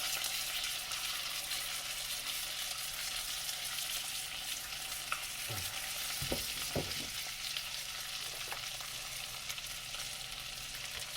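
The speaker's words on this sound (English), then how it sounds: "Put the salmon back in here. Let it cook some more." Blackened salmon frying in a pan, a steady moderate sizzle with a few low knocks and bumps of the pan and utensil partway through.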